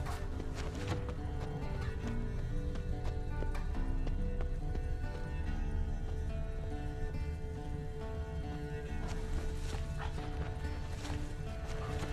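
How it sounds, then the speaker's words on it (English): Horse hooves clip-clop steadily for about twelve seconds in Witcher 3 near a camp at Kaer Morhen, with game music underneath and no neigh clearly standing out. "That's his horse."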